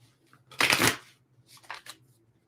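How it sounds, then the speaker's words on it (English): Tarot cards being shuffled by hand in a live reading, one loud close riffle lasting about half a second followed by a softer, shorter second shuffle, with quiet room tone between. "2 more shuffles. 2 more shuffles."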